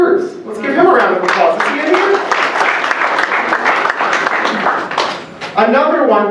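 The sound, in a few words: applause for Scotty Scott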